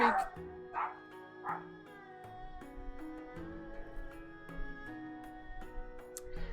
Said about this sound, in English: That was my doggy. She is very excited that my mother is home.